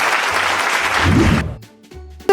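Schoolchildren clap together in a classroom, a brief burst of dense applause that stops abruptly and gives way to a short, quieter pause.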